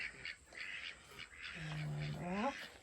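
Ducks kept in a coop give a couple of faint, nasal calls, with a longer drawn-out honking quack near the end, low and close against quiet background.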